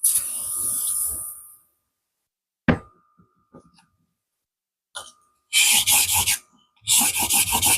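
Stanley No. 4 plane blade held in a honing jig and worked on a sharpening stone, giving two bursts of steady abrasive rasping strokes after a quieter scraping start and a few light knocks of handling between them.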